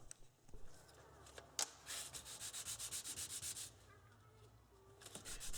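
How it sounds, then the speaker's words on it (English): Fine 400-grit sandpaper rubbed by hand over the vanes of a 1-inch air impact wrench rotor on a flat surface, a run of about a dozen quick, even scraping strokes between quieter pauses, close and fairly soft. "I just took each of those vanes and just kind of put it on a flat surface and just kind of sanded them up."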